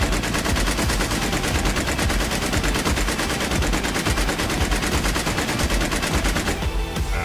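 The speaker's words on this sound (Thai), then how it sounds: "ผมให้ดูตาดรัวหนึ่งร้อยนัดรวดเดียวปืน" An assault rifle in the video game War Inc fires a hundred rounds on full auto: a loud, unbroken stream of rapid shots lasting about seven seconds, easing off only at the very end.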